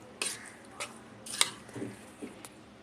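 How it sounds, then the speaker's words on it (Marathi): Spices being worked into raw chicken liver in a bowl make a handful of short, close clinks and soft wet scrapes, spaced irregularly across a few seconds. "आता या सगळ्यांना चांगलं आपण मिक्स करून घेऊया।"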